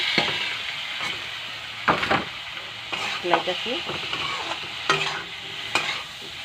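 Potatoes added to hot oil with fried masala of cumin paste, chilli powder and salt, giving a continuous sizzle broken by several sharp stirring scrapes, with a few faint spoken words.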